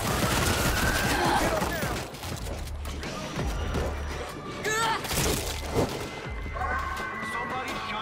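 Gunfire at a screamer zombie in the World War Z shooter game, with rapid bursts of shots, crashes and shattering clatter over loud battle noise while voices talk throughout.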